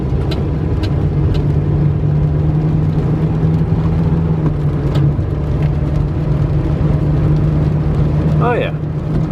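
A Toyota Corolla with a suspected clunk or wheel bearing noise rolls over pavement, heard from inside as a steady, loud road hum and engine drone with a faint low whine, continuous throughout.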